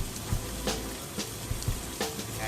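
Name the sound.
steak frying in a pan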